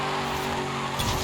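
A car in the Forza Horizon 5 racing game, set up with an all-wheel-drive drift tune, holds high steady revs with a sustained engine drone while tires skid, loud and continuous for a brief moment.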